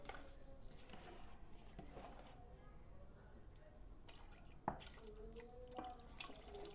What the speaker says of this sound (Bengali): এর উপর থেকে দিয়ে দেবো আমি দুধ। দুধ দিয়ে দিলাম।